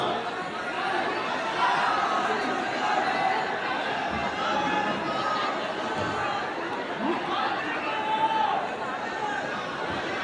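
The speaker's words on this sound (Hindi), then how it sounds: "बाहर भीड़ बहुत ज्यादा है" Dense, continuous chatter from a large crowd of students gathered outside a seminar hall, many overlapping voices with occasional laughter, steady and fairly loud throughout.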